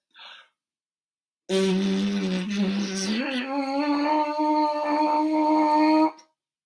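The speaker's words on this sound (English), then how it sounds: "put that buzz onto a mouthpiece" A loud, close brass-like buzz played on a bare trumpet mouthpiece, holding one pitch and then sliding upward and wavering, preceded by a quick breath.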